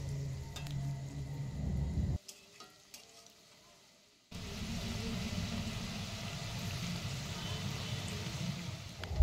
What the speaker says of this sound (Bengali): এইভাবে একটু লাল লাল করে বড়াগুলো ভেজে নিতে হবে